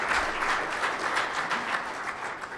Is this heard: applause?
yes